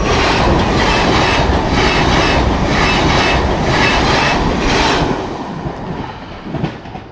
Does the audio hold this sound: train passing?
yes